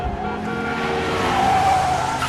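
A car speeds off on the way to a hospital, its engine revving hard and rising in a continuous loud roar, with a faint tire squeal in the background.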